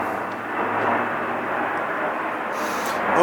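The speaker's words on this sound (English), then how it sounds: "It's an airplane." A fixed-wing airplane drones overhead in a garden, a steady broad engine rumble that holds at a constant level from start to finish with no voices.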